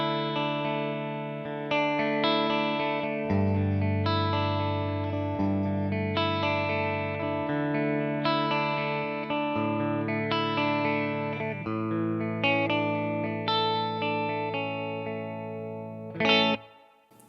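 An electric guitar runs through a Kemper amp profile with treble and presence turned up and mids backed off slightly, playing sustained, overdriven chords and single notes for a long passage, loud and alone, ending on a sharp accent.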